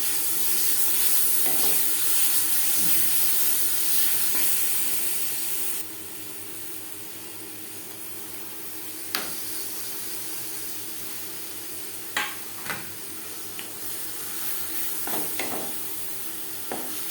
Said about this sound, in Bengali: ঘি ও এলাচের সাথে ছানা বেশ ভালো করে মিক্সড করে দেবো।